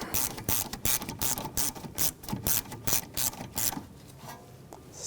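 Rapid ratchet clicking in quick bursts as a rear brake hose bolt is tightened on a Volkswagen Jetta, close and crisp, pausing briefly between strokes before trailing off.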